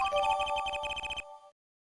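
A cell phone ringtone from the Apollo Justice: Ace Attorney video game: a bright, rapid electronic melody with repeating chirpy notes, loud and clear, playing alone for about a second and a half before cutting off.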